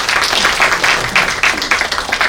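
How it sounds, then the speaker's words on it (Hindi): An audience at a New Delhi seminar gives a short round of applause, uneven clapping with distinct individual claps standing out, fairly close and loud. "इनके नाम की एक ताली लगा"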